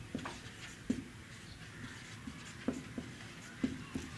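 Chalk taps and scratches on a board during a chemistry lecture on electrochemistry, several sharp knocks spaced irregularly over soft writing strokes, fairly faint in a quiet room.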